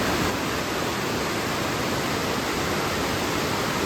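A constant, powerful roar of fast-flowing mountain water fills the air, the Pinder river near Pindari glacier heard up close from a bridge, loud and unbroken with no voices.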